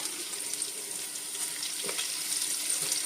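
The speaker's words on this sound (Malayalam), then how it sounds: "ഞാനിപ്പോൾ ഒരു 5-6 വെളുത്തുള്ളി തൊലിയോടുകൂടി തന്നെ ചതച്ചിട്ട് ഒന്ന് വറുത്ത് എടുക്കുവാണ്." Crushed garlic cloves, skins still on, fry in very hot oil with a steady, even sizzle and crackle that continues throughout without pause.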